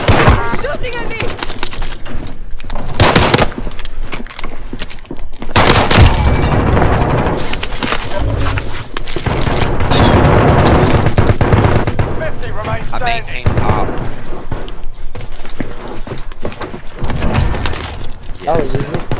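Heavy, continuous gunfire fills a video game shootout, with bursts of automatic fire and impacts that barely let up while players shout and talk over it.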